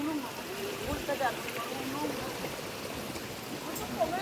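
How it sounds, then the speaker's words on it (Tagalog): Flowing water from a stream near Tinago Falls, a steady broadband rush close by, with people talking over it. "Meron pang umaagos na tubig"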